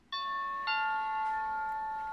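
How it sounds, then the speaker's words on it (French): A two-note Friedland 433 MHz wireless electronic doorbell chime rings out clearly and alone, its tones ringing on and slowly fading. "je peux déclencher la sonnette"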